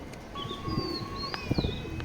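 Racing pigeons coo faintly in a loft, soft low bursts rising out of a quiet background with thin whistling tones drifting above.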